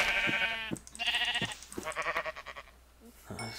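Sheep in the Minecraft video game bleat several times in quick succession, with harmonic, wavering baas close and clear, followed by a short pause and a final bleat.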